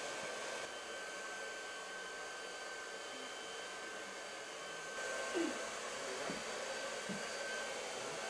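A hair dryer blows steadily while hair is shaped with several brushes in hand, a constant airy whir with a faint high whine, with a few soft brush and handling sounds near the end.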